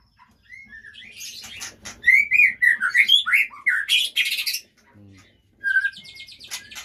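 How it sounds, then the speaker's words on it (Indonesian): A quality-bred songbird from a breeder sings close by in quick bursts of bright chirps, whistles and trills, pausing briefly before a final phrase, with no other sound around it. "yang diternak burung yang kualitas, bukan burung yang abal-abal"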